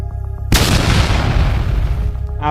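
Explosion sound effect: a sudden loud boom bursts in after a tonal intro and rumbles on, decaying slowly into a rough roar before a brief tone returns at the end.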